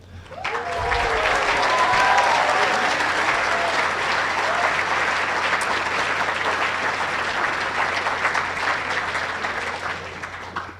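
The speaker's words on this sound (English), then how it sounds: "give yourselves a round of applause" Steady applause fills a hall at a medical school white coat ceremony, a large audience clapping loudly and evenly throughout, with a brief voice at the start.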